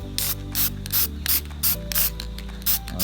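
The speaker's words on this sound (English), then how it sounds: "so I'm doing a little one touch, simple all-purpose black spray" Short bursts of all-purpose black spray paint hissing from an aerosol can during a hood touch-up on a Lexus IS250, roughly six or seven close, sharp sprays at a steady rhythm.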